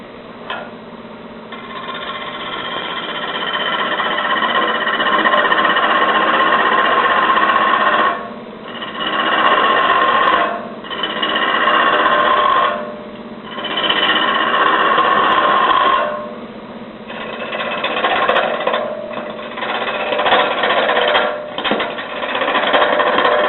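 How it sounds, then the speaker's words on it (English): Spindle gouge cutting wood on a lathe while turning an offset bat, a steady loud whirring scrape that drops out briefly several times as the tool lifts off and re-engages. "This is a Hasseluk spindle gouge."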